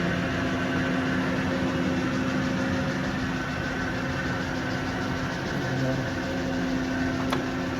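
Tarnow TUJ-50M engine lathe with its spindle turning at about 20 RPM, giving a steady, even mechanical hum and whine close by with a faint click near the end.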